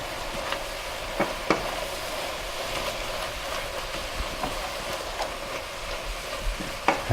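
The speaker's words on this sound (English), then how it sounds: "Now I'm going to stir that around." Chard stirred in a hot pan on a burner turned to high, a soft continuous sizzle with scattered scraping knocks of the utensil against the pan, close up and without speech.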